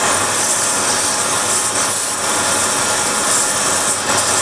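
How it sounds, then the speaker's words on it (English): Wood is hand-sanded with 180 grit sandpaper in a steady, loud, close rasping hiss that runs without a break. "I'll sand the top as well"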